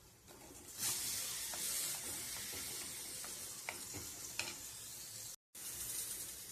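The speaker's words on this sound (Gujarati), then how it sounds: "ડુંગળીને સારી રીતે ચડવા દેવાની છે. થોડું એવું ડુંગળીના ભાગનું મીઠું નાખશું એટલે ડુંગળી ફટાફટ ચડી જાય છે." Onions frying in a pan with a little salt, a steady loud sizzle running throughout with occasional stirring clicks and scrapes, briefly cutting out near the end.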